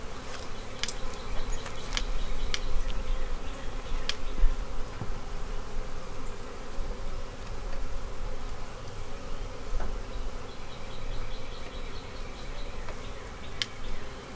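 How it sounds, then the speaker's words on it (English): Honey bees in a hive in a bee barn make a dense, continuous buzz close by, with individual bees droning past now and then. "I guess the good news is there's a lot of bees."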